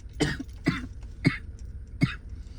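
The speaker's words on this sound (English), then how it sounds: "I'm sorry for coughing." Four separate coughs from one person, close and moderately loud, spaced at roughly half-second intervals, each a short harsh burst with quiet pauses between.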